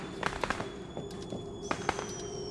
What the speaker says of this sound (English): But it's got fireworks. We love fireworks.